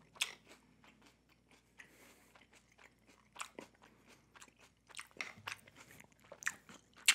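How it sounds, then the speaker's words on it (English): Close, quiet crunching and chewing of homemade cereal with nuts and fresh fruit, a series of sharp irregular bites and crunches with soft mouth sounds in between, without talk. "The nuts make it crunchy."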